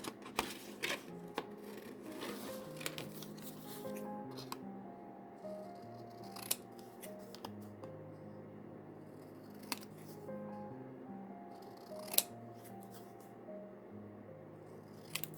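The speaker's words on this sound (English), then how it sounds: "I'm going to cut this one" Scissors snip through paper for a handmade journal, a series of sharp, close cuts with scattered crisp clicks over soft rustling and faint background hum.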